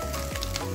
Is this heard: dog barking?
no